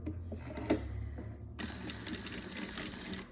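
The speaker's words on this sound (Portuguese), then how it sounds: "Vou prender, certo? Uma costurinha de segurança," Sewing machine running a short burst of stitches to fix elastic onto a makeup bag, a quiet rapid mechanical whir with a click near the start before the stitching picks up again.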